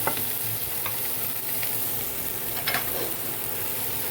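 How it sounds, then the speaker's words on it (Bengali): Slices of pointed gourd fry in a pan of hot oil, making a continuous close hiss and sizzle with a few sharper crackles and light stirring sounds, and no voices. "এবার এই কুদলিগুলোকে আমি একটু এর সাথেই ভেজে দেবো।"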